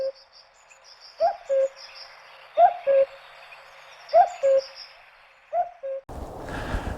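Clear two-note calls from a common cuckoo at Thursley Common repeat four times at an even pace, set against a quiet background with faint bird chirps. A short burst of rustling noise comes at the end.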